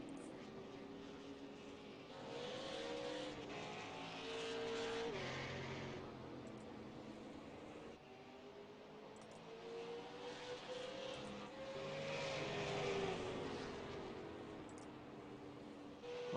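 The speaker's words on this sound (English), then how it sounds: "cars coming out on to the track here." Super late model race cars roll out onto the track, their engines droning and swelling in two broad passes at moderate distance, with no talk over them.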